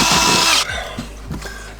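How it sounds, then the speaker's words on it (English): A power drill spins a bit through a freshly cut opening for an in-cab power outlet, a loud steady whine for about half a second, then stopping, followed by a few faint scraping knocks as the bit cleans up the rough edge. "So you can still kind of use the drill bit to clean it out a little bit"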